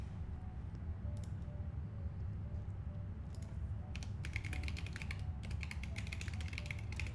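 Quiet, steady clatter of typing on a computer keyboard while coding, irregular bursts of keystrokes close by, growing busier toward the end, with no talk.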